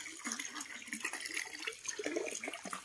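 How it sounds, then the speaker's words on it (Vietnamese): Natural mountain stream water runs through a culvert into a pool, a faint steady splashing and trickle with a light bubbling texture throughout. "Nước đang chảy đó, nước suối tự nhiên đó nha."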